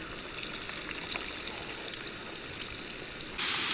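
Steady rain pours down around a fishing boat during a shore lunch on a walleye trip, a dense continuous hiss and patter close by, with a brighter, louder burst of spray near the end.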